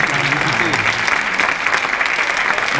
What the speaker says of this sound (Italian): Un applauso a tutte le mamme che sono in sala.